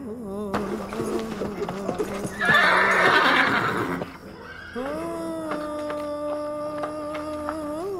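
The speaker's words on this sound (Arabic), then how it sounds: "صوت الحصان فياني من عز نومي." A horse neighs loudly in a long rising-and-falling whinny, preceded by snorting and hoof clatter and a burst of rustling noise, with a voice and a sustained musical tone nearby.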